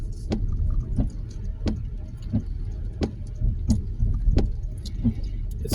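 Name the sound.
car driving on a snowy road in Frankfurt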